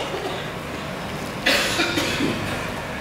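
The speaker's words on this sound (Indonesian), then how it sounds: "Kalau sudah batuk-batuk itu biasanya nggak apa-apa." A single short cough breaks through steady background hum at a large religious gathering, fairly close and moderately loud.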